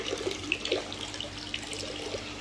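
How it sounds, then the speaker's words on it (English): A cut-off plastic bottle is filled with water scooped from a koi tank, making a continuous close pouring and splashing sound with a few brief gurgles and drips, and no voices. "I'm getting some water out of the tank, trying to fill that up as much as possible"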